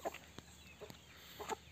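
Aseel (Indian) hens and roosters cluck softly inside a coop, a few short scattered clucks over quiet background hum, faint and somewhat distant.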